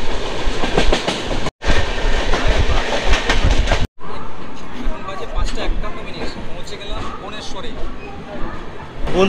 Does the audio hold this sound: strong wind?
no